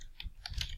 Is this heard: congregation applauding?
no